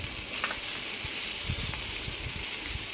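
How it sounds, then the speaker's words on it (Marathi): Potatoes sauté in a pan with salt, red chili powder and coarsely ground turmeric for a samosa filling, making a constant soft hiss and sizzle with faint stirring scrapes underneath. "मीठ लाल तिखट थोडं परतवून घेणे व बटाटे टाकून भाजी"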